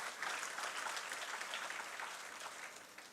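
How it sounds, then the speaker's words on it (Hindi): An audience at a youth session applauds in a steady, fairly soft round of clapping that fades slightly toward the end, with no talking over it. "ताली तो बजाओ"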